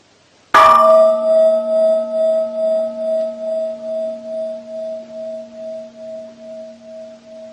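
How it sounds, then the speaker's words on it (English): A meditation gong is struck once with a sharp attack, then rings on with a steady, slowly pulsing hum that fades gradually over several seconds, alone and close. "If you, for example, simply listen to the gong,"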